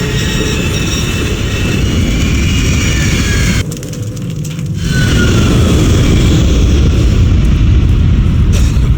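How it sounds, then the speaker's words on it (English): A plane in Max Payne 3 roars loudly and steadily overhead, a dense broadband drone that dips briefly in the middle before swelling back to full strength. "Weir's coming down with that plane."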